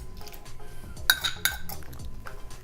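Soup ingredients are dumped from a metal bowl into a crock pot, with scraping utensil clatter and two sharp clinks against the pot's rim over a dull kitchen background.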